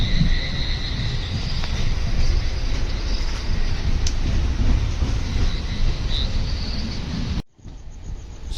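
The Konkan Kanya Express pulls out of Vilavade station, heard from inside a coach as a continuous heavy rumble of wheels rolling on rails, loud and steady with faint squeals, before abruptly cutting off.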